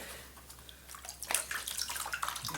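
Water sloshing and washing black sand around in a gold pan, a close, soft splashing and swirling that builds slightly toward the end, with no voices.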